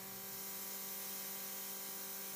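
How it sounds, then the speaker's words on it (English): Steady airbrush hissing as it sprays UV gel polish onto nails, with a constant low mechanical hum from the compressor underneath and no talking. "close the color and start to spray"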